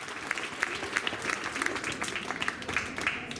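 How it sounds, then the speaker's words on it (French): Steady applause from an audience at a school award ceremony, many hands clapping at moderate distance in a continuous patter with no talk over it. "On l'applaudit quand même."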